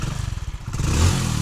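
A Hero Splendor Pro motorcycle engine starting, with a rapid clattering of the kick or starter, then the engine catching and settling into a steady low idle, close by.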